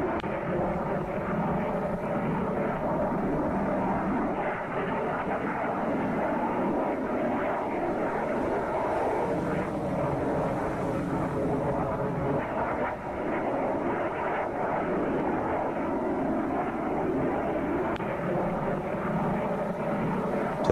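A steady, droning aircraft engine roar in a naval combat video game holds constant throughout, dense and continuous with no pauses, like a plane flying close overhead.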